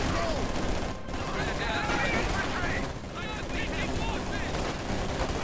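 PPSh submachine guns carried by conscripts fire in a World War II real-time strategy battle, with dense, rattling bursts of automatic gunfire layered with distant shots and explosions, continuous throughout.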